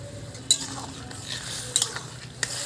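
Fish added to a pan over water-simmered greens, a steady moderate sizzle with a few sharp metallic clinks of a utensil against the pan, close and without talking.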